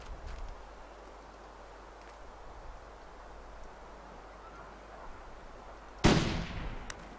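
A single sharp gunshot rings out in the survival video game The Long Dark, fired at a wild animal; it strikes suddenly after several seconds of quiet ambient wind and trails off into a brief echo.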